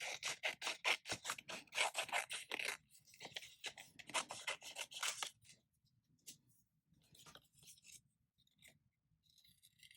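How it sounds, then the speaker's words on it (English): Scissors snipping close up as paper letters are fussy cut out for a Harry Potter themed journal page, a quick run of dense crisp cuts that thins into sparse, quieter snips and rustles. "I'm going to use the words "The Great Hall" here and just fussy cut them out."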